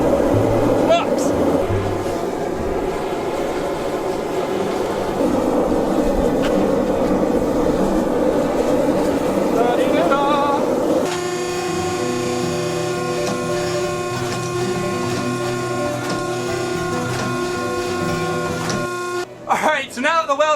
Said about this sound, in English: going to my press and giving it a nice little squish